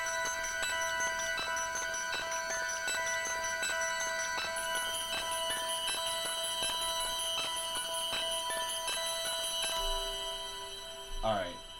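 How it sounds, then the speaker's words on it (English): Dark ambient bell pad synth preset Rev 2 Chimes of Oblivion from Atmosphere rings out in repeated sustained chime tones with shimmering overtones, fading toward the end as a voice briefly begins speaking. "first we got this bell pad from Atmosphere"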